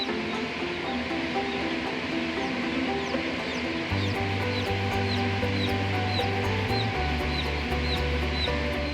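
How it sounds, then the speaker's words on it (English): Newly hatched chicks in a hatchery give a dense, continuous chorus of high peeping, with many overlapping cheeps, repeated chirps and steady machine hum underneath; nobody speaks. "Watch as the chicks hatch."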